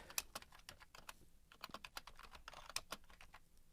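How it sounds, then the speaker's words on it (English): Quick, irregular clicks of typing on a computer keyboard, close and fairly quiet, with brief pauses between bursts of keystrokes. "And then type the caption."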